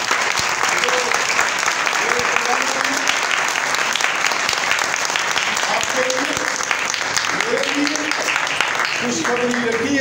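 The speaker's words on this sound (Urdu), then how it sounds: "خوب زوردار تالیاں بجائیں۔" A church congregation claps steadily and loudly throughout a sermon, with voices calling out over the applause.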